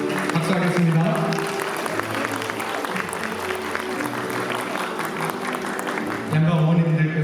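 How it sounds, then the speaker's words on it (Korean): Wedding guests applaud steadily through a hall, a dense continuous clapping at moderate volume with background music running beneath and a slight swell near the end. "박수하겠습니다."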